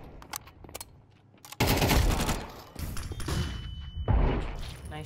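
Counter-Strike 2 gameplay gunfire: rapid automatic bursts of shots crack out close and loud, with a few sharp single shots before heavier sustained fire and a final burst.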